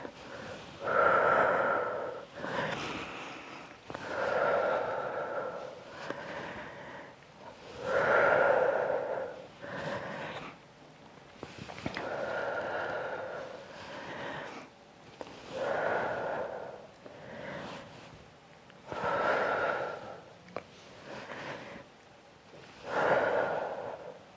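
Deep, audible breaths during Pilates ab twists, alternating long exhales and inhales in a steady rhythm of roughly one cycle every few seconds, close to the microphone.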